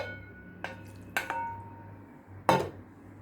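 Sauce is poured and scraped from a bowl over chicken, potatoes and vegetables in a baking dish, heard as three short clinks of a utensil against the dish over faint background hum.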